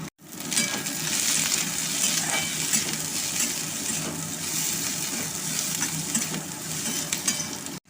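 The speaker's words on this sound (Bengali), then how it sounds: "কিছুক্ষণ ভেজে নিলাম এবার যে ক্যাপসিকামগুলো কেটে রেখেছিলাম দিয়ে দিলাম" Chopped capsicum goes into a pan of frying chopped onion and hisses in a steady, loud, continuous sizzle with faint stirring scrapes throughout, and no voices.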